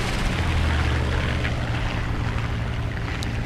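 Propeller aircraft engine in War Thunder, an I-15 biplane stalling with its engine overheating, giving a steady loud droning roar with a low hum throughout, no voices over it.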